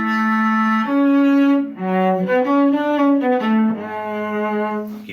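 A cello plays the opening four bars of La Cinquantaine from Suzuki Cello Book Volume 3, a clear, sustained bowed melody of connected notes, close and loud, with no voices.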